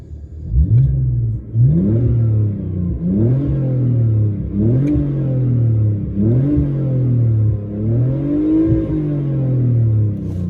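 A BMW E46 engine with a vacuum leak is revved repeatedly, about five rising and falling blips at an even pace, loud and close with no talking.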